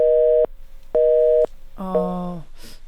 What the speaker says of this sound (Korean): 전화 연결이 잠깐 끊어진 것 같은데요.